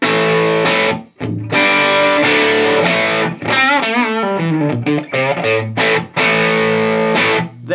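A Les Paul electric guitar plays through a cranked amp on its normal channel, loud, saturated chords and sliding bends ringing out alone with short gaps between phrases.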